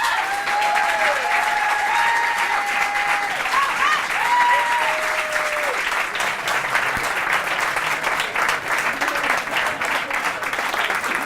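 Steady, sustained audience applause in a French television show studio, dense clapping throughout with a few scattered voices and calls over it, fairly close and even in loudness.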